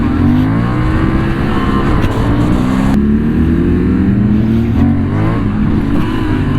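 A Honda CB750 Hornet streetfighter motorcycle accelerates hard, its engine note climbing loud and close through a couple of gear changes.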